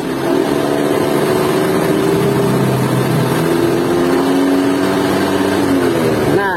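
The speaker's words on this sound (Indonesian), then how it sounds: "Honda Beat saya di speedometer jalan di 40 pertengahan 60 dia berebet" A 2017 Honda Beat scooter engine runs steadily between 40 and 60 km/h, its pitch wavering and stuttering unevenly as it holds speed and loses power, close and fairly loud.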